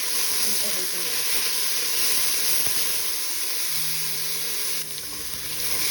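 Onion sautéing in oil in a pan for aji de fideo, a steady close sizzle and hiss of frying that continues throughout.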